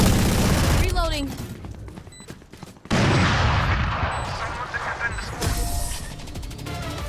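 Rapid gunfire in the tactical shooter Valorant, loud bursts and repeated shots filling most of the stretch with a short lull before another heavy volley, voices talking over it.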